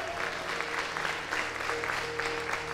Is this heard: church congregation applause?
yes